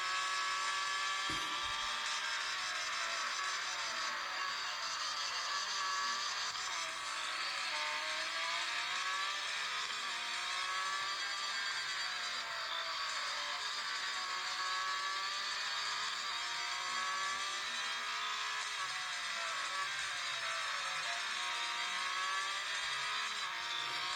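A Porsche racing around a circuit gives a continuous, loud engine whine whose pitch climbs and dips with each gear change and corner, with no talking over it.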